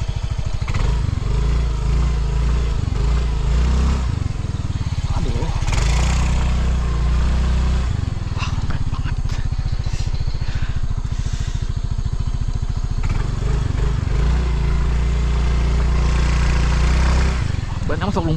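A motorcycle stalls repeatedly while stuck in thick mud on a forest trail, its engine loud and close, sputtering and revving unevenly throughout, with people talking over it.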